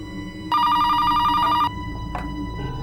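A telephone rings once, a clear electronic trill lasting about a second over quiet room tone, followed by a faint click.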